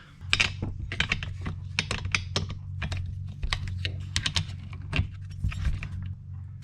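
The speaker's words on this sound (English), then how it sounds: "And then I need to get a socket for the spark plug." Metal sockets clink and rattle as one is picked out of a tool set to remove the spark plug from a Stihl FS75/FS80/FS85 string trimmer; close, busy clattering with no talk.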